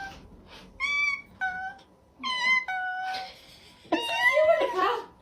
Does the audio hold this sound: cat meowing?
yes